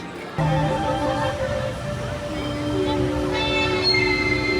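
Big Thunder Mountain Railroad coaster train at Disneyland, a Dynamic-built runaway mine train ride, with rail rumble and squealing wheel tones after a sudden start, steady and fairly close.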